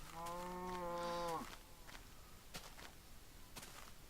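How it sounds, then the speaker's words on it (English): A cow in a video game moos once, a drawn-out lowing call lasting over a second, followed by faint scattered thuds and clicks of movement in a quiet scene. "Still having a go trying to push that cow around."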